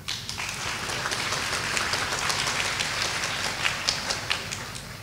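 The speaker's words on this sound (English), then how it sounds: "let's give a big applause to welcome Rex" An audience at a school morning assembly applauds to welcome a speaker, steady dense clapping heard from a moderate distance for several seconds with no talking.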